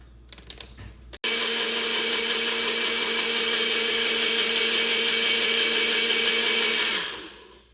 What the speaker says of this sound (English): I guess because I blended up the fat, whatever little bits of fat there was in it